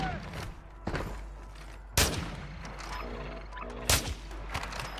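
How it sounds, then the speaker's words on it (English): Gunfire from bots in a video game, several sharp loud shots spaced about two seconds apart over a low background hum, with fainter scattered pops between them. "I've got bots shooting me off right up the ladder"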